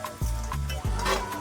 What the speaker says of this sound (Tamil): அந்த மசாலாலாம் நல்லா ஊறணும், அதில் நல்லா கிண்டிக்கோங்க.